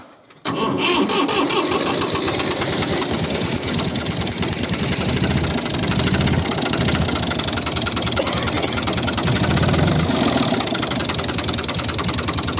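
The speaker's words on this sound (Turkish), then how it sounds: "motoru çalıştıralım. Motor ısına dursun." A tractor engine cranks and fires, then settles into a steady, loud, close idle with a rough knocking rhythm as it warms up before going to fetch firewood.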